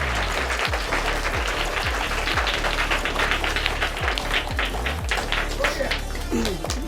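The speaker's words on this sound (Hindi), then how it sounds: "आप सभी लोग इनके लिए ज़ोरदार तालियां बजाइए।" An audience claps loudly for a college student named winner at a student competition, a thick burst of applause with some sharper individual claps standing out near the front, then a voice starts speaking at the very end.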